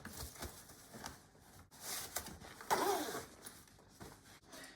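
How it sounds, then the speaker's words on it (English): A zipper on a fabric flap of a Joolz Aer 2 pram is pulled along in a few quick, close rasping strokes, with soft handling rustles and clicks between them. "this flap needs to go underneath this bar and then zip on right here"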